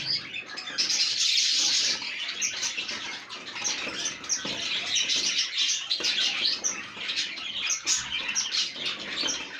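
Many small birds chirp and tweet continuously at close range, a busy, overlapping chatter with occasional rustles and flutters.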